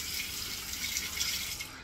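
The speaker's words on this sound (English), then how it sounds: "So when you rinse the razor, you kind of want to give it a light flick" Tap water runs steadily over an open comb safety razor being rinsed, a continuous close splashing hiss with no talk.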